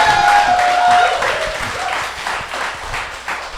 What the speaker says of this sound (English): Put your hands together so everyone at home knows you.